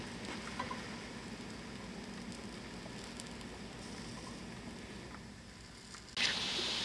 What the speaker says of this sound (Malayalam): ഇത് തിരിച്ചിട്ട് കൊടുക്കുക. ഇനി ഒരു ഭാഗം കൂടി ഫ്രൈ ചെയ്തിട്ട്